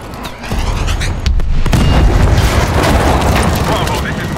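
Heavy booming blasts and rumbling debris fill a Call of Duty: Advanced Warfare battle, a dense, loud, continuous roar of explosions with sharp cracks early on.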